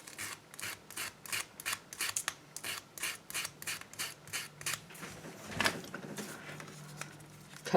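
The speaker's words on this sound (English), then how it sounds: "I'm going to rough those up, or sand them" Rhythmic rasping strokes as the page edges of a small vintage library book are roughed up with sanding, a steady series of close, fairly quiet scrapes, one slightly louder stroke near the end.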